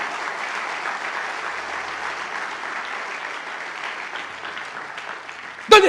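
Sustained applause from a church congregation, steady and dense clapping filling the space throughout, ending with a brief louder burst.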